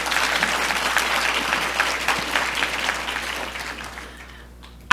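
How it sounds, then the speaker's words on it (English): An audience at a closing celebration applauds together, a broad even patter of many hands that gradually thins and fades, ending with a brief sharp noise. "give yourselves a round of applause for being in this room today"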